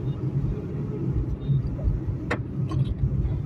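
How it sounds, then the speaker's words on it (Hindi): Steady road traffic rumble around a motorcycle moving through busy Zirakpur–Chandigarh streets, a continuous low drone with a brief sharper vehicle sound passing midway, no talk. "ट्रैफिक ट्रैफिक ट्रैफिक ट्रैफिक चलो फिर भी मूविंग ट्रैफिक है"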